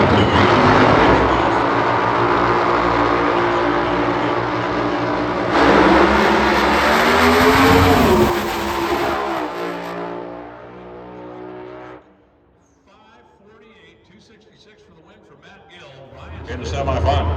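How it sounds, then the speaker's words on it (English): Top alcohol dragster engines revving at the starting line of an NHRA drag race: loud, sustained roaring blasts rising and falling for several seconds, then dropping away before building again, with commentary over them. "That's why you hear them rev them up before they leave the starting line."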